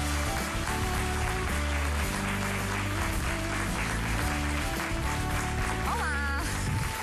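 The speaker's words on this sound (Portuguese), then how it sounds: "E vamos receber com um grande aplauso José Luís Terron." A studio audience on a Portuguese TV programme applauds steadily as a guest is welcomed, a dense, continuous clapping with music running underneath.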